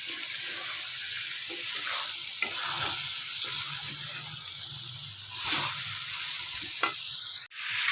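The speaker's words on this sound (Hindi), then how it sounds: "कीमे में गुल्लड़ ऐड करने के बाद हम इसको अच्छी तरह मिक्स करेंगे और हिलाएंगे।" Minced meat and gular (cluster fig) pieces sizzle and fry steadily in a pan while a spoon stirs them, with occasional scraping clinks and one sharp knock near the end, no talking.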